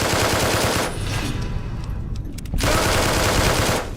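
Rapid automatic gunfire in a video game rattles in two loud sustained bursts separated by a short, quieter gap.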